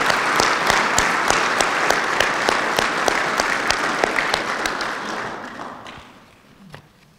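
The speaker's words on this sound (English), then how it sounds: "Please join me in a round of applause to show our appreciation." Applause from the audience at a 2023 veterans Hall of Fame recognition ceremony: steady, dense clapping from many hands that thins and fades out toward the end.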